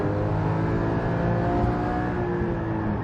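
A Porsche Cayman 981 GT4 engine holds a steady, throaty drone at a constant pitch, loud and close, with no speech.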